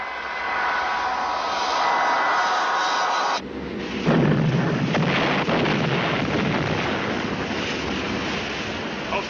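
A torpedo strikes a ship in a 1958 war film, heard as a roaring, rumbling blast that swells partway through over an ongoing wash of sea and wind noise, staying loud and turbulent afterward.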